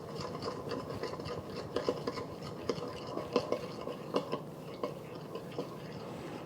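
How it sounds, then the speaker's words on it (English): A spoon stirs Dan Dan noodle sauce with garlic in a pan, giving soft continuous scraping and rubbing with light irregular clicks against the pan, close and fairly quiet. "And give that a stir."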